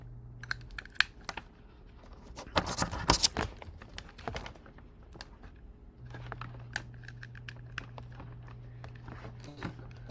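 Clicky typing on a computer keyboard hooked up to a CoCo setup, irregular close keystrokes with a denser burst partway through, over a steady low hum.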